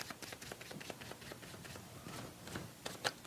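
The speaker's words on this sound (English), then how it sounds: "In fact, I'll even shuffle the cards." A deck of playing cards is shuffled by hand during a card magic performance, a quick run of soft close riffling clicks and flutters with no talk.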